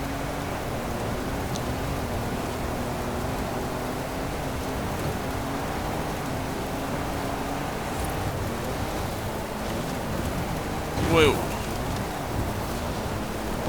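A steady wash of storm rain and wind surrounds a car driving through a downpour in Forza Horizon 5, with a short voiced exclamation near the end.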